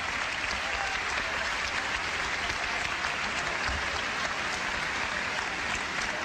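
Sustained applause from a theatre-style television audience greets pianist-composer Giovanni Allevi, a thick uniform roar of clapping that holds steady throughout without voices standing out.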